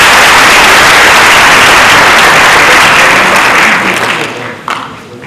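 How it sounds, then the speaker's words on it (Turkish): Audience applause at a university biomedical days event in Düzce, a dense, steady wash of clapping from a large crowd that holds loud for several seconds, then thins and fades out toward the end. "O nedenle onlar için başında, sunumun başında bir alkış istiyorum."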